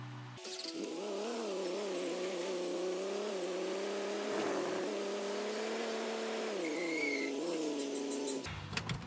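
A truck drives in Gold Rush 2022 with a steady engine drone. The pitch wavers slightly as it holds speed, then it cuts off abruptly near the end.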